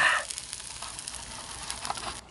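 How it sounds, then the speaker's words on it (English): A steady, crackling sizzle of eggs and potatoes frying in a hot pan outdoors, close and even throughout with small pops. "Listen to that girl sizzle"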